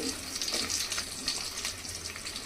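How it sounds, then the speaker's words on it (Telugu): Onions and green chilies fry in a pan of oil after mustard seeds, cumin and dried red chilies for cucumber sambar, giving a steady close sizzle throughout with a few stirring scrapes and no talk. "మనకి జీలకర్ర ఆవాలు అయ్యాక ఉల్లిపాయలు వేసేసుకున్నాం అలాగే పచ్చిమిర్చి"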